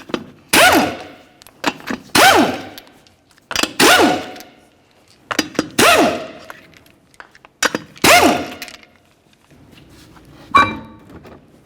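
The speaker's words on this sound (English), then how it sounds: "we'll remove all 5 of our 21mm lug nuts and then the wheel" Lug nuts coming off a 2012-2018 Nissan Altima front wheel, with six loud, sharp bursts of a rattling impact-type tool spaced about two seconds apart and a heavier thunk near the end, no talking.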